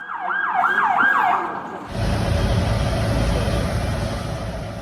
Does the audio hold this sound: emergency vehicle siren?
yes